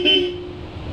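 A Bosch Europa loud horn fitted to a Honda ADV160 scooter gives one short, loud, bright toot up close, lasting well under a second.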